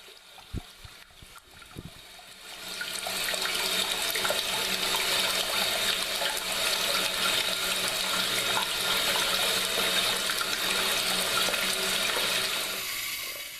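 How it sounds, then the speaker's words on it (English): A toilet tank refills with water after the supply is turned back on, a few clunks giving way to a steady rushing hiss of water that continues to the end. "now we're just going to wait for the tank to fill up with water again"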